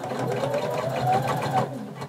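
Sewing machine running steadily as it stitches a 5/8-inch seam allowance joining the bottom and top portions of a color-blocked pullover top's front piece, a continuous close mechanical whir without pause.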